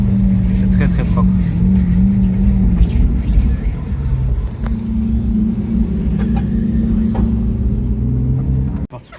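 A Lamborghini Aventador engine drones steadily while driving across Place du Casino, a loud, low rumble with a shift in pitch about midway and a sudden cut near the end; voices talk over it.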